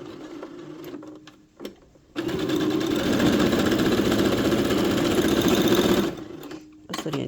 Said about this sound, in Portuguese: Vou costurar aqui, lateral.